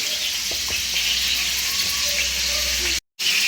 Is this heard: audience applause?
no